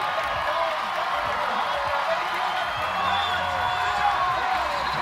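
Sustained crowd cheering and shouting at the CrossFit Games, a steady broad roar from a large arena audience urging an athlete toward the finish, with a commentator talking over it.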